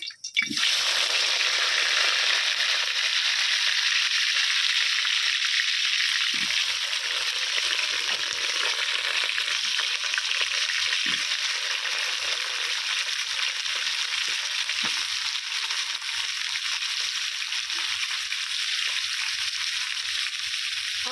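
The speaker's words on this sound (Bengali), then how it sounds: "কড়াতে দিয়ে দিয়েছি সর্ষের তেল তেলটাও আমার গরম হয়ে গেছে এর মধ্যে আমি দিয়ে দিচ্ছি আলু" Potatoes dropped into hot mustard oil in a wok, a loud, close, steady frying hiss with crackling and spitting that holds on without a break and no voices over it.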